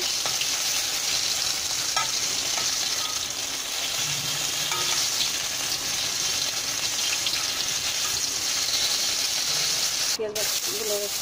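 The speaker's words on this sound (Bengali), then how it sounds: "মাছের এপিট ওপিট ভাজা হয়ে গেল" Tilapia fish frying in hot oil: a loud, steady, dense sizzle that runs without a break, with a few faint knocks near the end.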